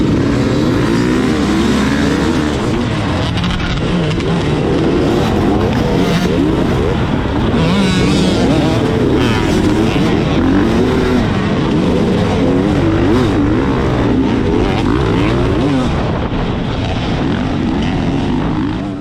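A 2021 Beta 300 RR Race Edition dirt bike engine during a dusty harescramble race, revving loudly and continuously up close with constant throttle changes and no break throughout.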